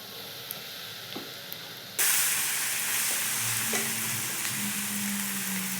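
Cumin, mustard seeds and garlic hit hot oil for a dal tempering, erupting into a loud, steady sizzle after a quiet lead-in, with faint crackles and pops continuing throughout.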